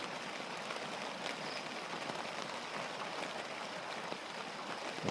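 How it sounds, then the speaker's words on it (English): Steady rain patters on a tent nearby on a farm, a dense continuous hiss of drops with no other sounds. "Can you hear the sound of the rain outside?"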